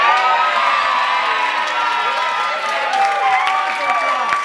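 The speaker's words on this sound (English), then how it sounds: "can we have a round of applause for the bridesman?" Wedding guests applauding and cheering for the bridesman, a loud crowd of whoops, shouts and clapping blending into a continuous roar with voices mixed throughout.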